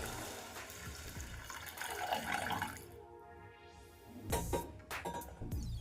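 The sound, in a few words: water poured into pot of basmati rice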